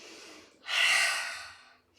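One audible exhale during a core workout with belly breathing, a soft breathy rush that swells and fades over about a second, close to the microphone, after a quieter breath.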